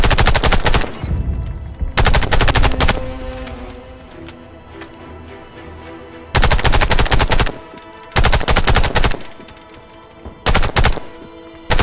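Automatic gunfire from the shooter game Warface, loud bursts of rapid rattling shots in several separated volleys with short quieter gaps of game ambience between them, no talking.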